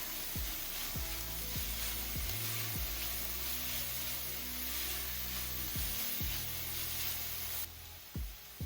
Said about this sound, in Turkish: önceden rendelemiş olduğumuz 2 adet havucu ekleyelim ve kavurmaya devam edelim